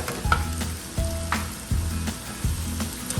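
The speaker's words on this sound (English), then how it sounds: "And then now add in our toasted biscuit into the mix." Toasted biscuit pieces tipped into a pan of cauliflower stuffing with chicken broth, making a steady sizzle with a few soft scraping thuds as the mix is moved about, close and loud, no voices.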